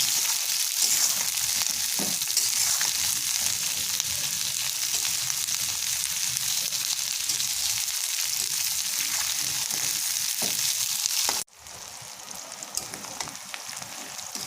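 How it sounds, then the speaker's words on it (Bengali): Onions frying steadily in a pan of spiced oil for a beef liver bhuna, a dense continuous sizzle that runs nearly unbroken, then drops in level briefly near the end as stirring continues. "পেঁয়াজগুলোকে কিছুক্ষণ নাড়াচাড়া করে আমি একটু হালকা ব্রাউন করে ভেজে নিচ্ছি।"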